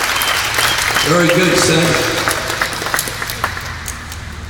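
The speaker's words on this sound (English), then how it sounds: "Let's give this boy a round of applause right here." Applause from campers and coaches at an outdoor tennis summer camp swells and then thins into scattered claps, while someone speaks briefly over it near the start.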